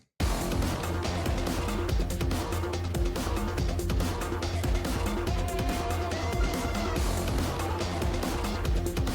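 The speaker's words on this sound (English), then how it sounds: "just listen to keys and things, and the drums sounds like this" A dense, loud mix of synth keys over a steady, driving drum beat, playing continuously without any voices.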